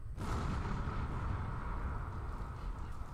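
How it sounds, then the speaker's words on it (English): A broad, sustained roaring blast from an explosion in the video game Age of Mythology starts abruptly and then holds as a dense, loud rumble for several seconds with no speech. "what the heck caused that explosion?"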